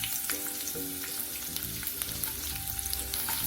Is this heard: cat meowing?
no